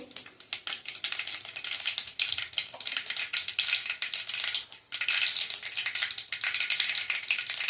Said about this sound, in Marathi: आता तेल तापलेलं आहे. यामध्ये घालतोय आपण 1 छोटा चमचा एवढी मोहरी, तेवढेच जिरे